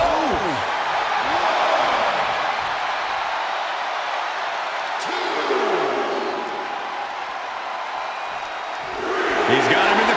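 A crowd in the wrestling video game WWE 2K24 roars continuously through the arena in a dense, loud wash of cheering, with a commentator-like voice talking over it and a brief swell of excitement near the end.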